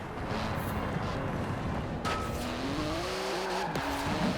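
A Porsche GT2 RS sports car with a 3.8-litre twin-turbo flat-six, 700 horsepower and carbon-fibre body, drives close by, its engine droning steadily with tire noise and a rising note near the end.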